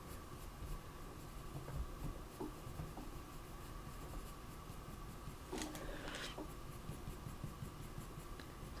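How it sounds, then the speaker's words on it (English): Pencil sketching on paper gives a soft, steady scratching with light repeated strokes, faint and close, continuing alone with a brief louder rub partway through. "I'm going up, I'm using my pencil up and under"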